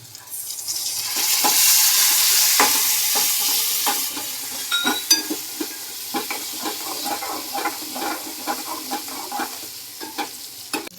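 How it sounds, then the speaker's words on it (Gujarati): A steady, loud sizzle as lemon water hits gunda relish with fenugreek in a hot pan, settling into crackling, with repeated scraping stirs throughout. "આ લીંબુનું પાણી જરીક નાખશું"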